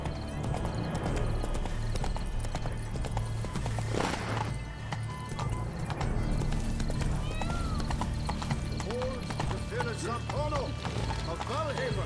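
Horse hooves clip-clop steadily in The Witcher 3 while riding through gardens, with an occasional whinny and ambient game music beneath.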